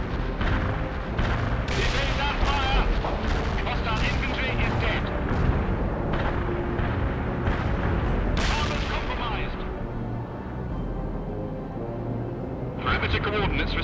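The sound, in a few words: artillery strike explosions in World in Conflict video game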